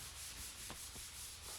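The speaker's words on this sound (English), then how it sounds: "basically I'm sanding" Sandpaper rubbing over a drywall skim coat, a steady close scratchy hiss of continuous sanding with faint strokes, no voices.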